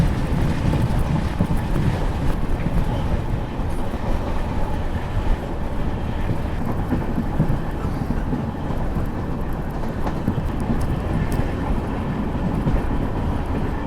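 A train runs through desert country toward Jaisalmer with a steady, loud rumble and rattle of wheels and carriages, heavy wind buffeting the microphone throughout.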